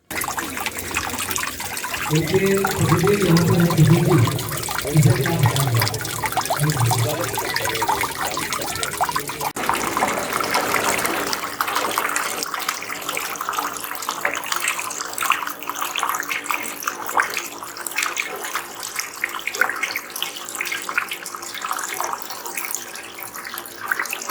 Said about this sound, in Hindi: आश्रम पर आप कलकल बहती जल धाराएं देख सकते हैं।